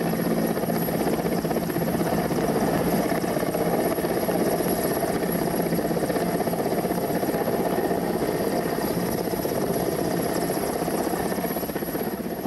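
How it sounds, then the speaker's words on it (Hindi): An Air Force helicopter hovers during a flood rescue, its rotor throbbing in a loud, steady, continuous drone throughout with no voices. "आदित्य, हम देख पा रहे हैं वायुसेना का हेलीकॉप्टर आखिरकार पहुंचा और शख्स को बचाया गया"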